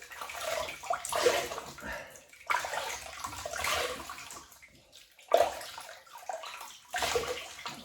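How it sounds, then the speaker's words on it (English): Water splashing in repeated bursts as hands scoop and rub it over the face before a shave with an Edwin Jagger DE89L razor, near and moderately loud, with gurgling between splashes. "take them off, and we'll wet the face"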